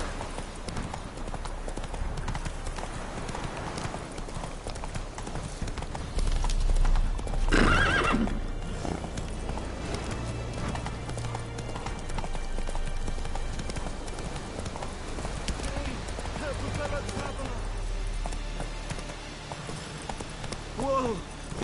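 Horse hooves clip-clop steadily at a gallop through most of the stretch in The Witcher 3, joined by a loud whinny near the middle, with game music and ambience underneath.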